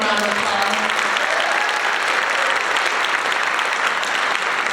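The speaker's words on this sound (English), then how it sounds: "Please give a round of applause." Audience applause at a Friday night concert, continuous thick clapping from a crowd filling the whole stretch at a steady, loud level.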